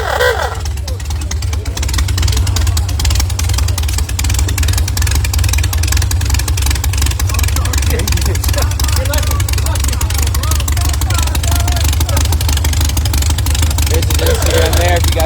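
A motorcycle engine runs loud and close at a Cars & Coffee meet, with a deep sustained rumble and rising revs beneath people talking nearby.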